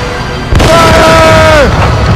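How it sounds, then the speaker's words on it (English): Ship cannons firing in an Assassin's Creed Rogue naval fleet battle: a sudden loud boom erupts over the steady game soundscape, followed by a sustained ringing, whistling tone that trails off. "Man the cannons!"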